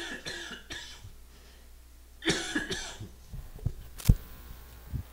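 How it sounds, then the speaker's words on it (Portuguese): A person coughs several times up close, harsh bursts separated by pauses, with a heavier throaty cough near the end. "acho que deu para tossir e aliviar aqui a garganta"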